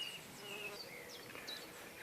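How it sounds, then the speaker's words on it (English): Bees buzzing among geranium flowers in a June garden, a faint, continuous outdoor hum with no speech. "a sea of happy bees buzzing about"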